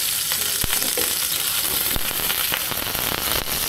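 Squid adobo sizzles and crackles steadily in a frying pan while being stirred, with a dense continuous fry hiss and a few sharp pops scattered throughout, close and loud with no talking.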